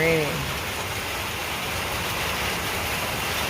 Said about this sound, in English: Here is the rain.